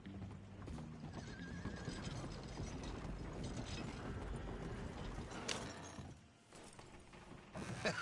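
Horse hooves clip-clop in Red Dead Redemption 2 amid creaking tack and wooden mechanical rattles, with a whinny among them, the steady clattering gait holding close and clear before briefly thinning out near the end.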